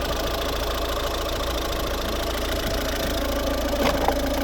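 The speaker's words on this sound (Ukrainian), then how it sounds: "Ось робота двигуна." A 2010 Volvo V50 R-Design with a 1.6 D2 diesel engine idling, a steady, close, even rumble with a light diesel clatter, continuous and alone.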